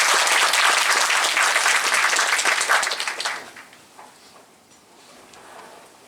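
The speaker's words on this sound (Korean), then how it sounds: "박수 부탁드립니다." An audience at a Korean baseball academic society conference claps warmly to welcome the society's president, dense steady applause for about three seconds that then thins out and fades to a quiet room.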